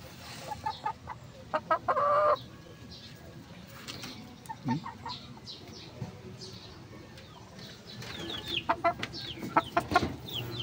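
White leghorn chickens on a farm give scattered clucks and short calls, with a louder burst near the start and a denser run of clucking toward the end over steady background noise.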